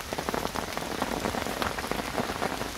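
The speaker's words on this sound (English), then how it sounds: "the rain has certainly kicked in" Steady rain patters on surfaces during a carp fishing trip, with dense, close drops falling continuously and no voices.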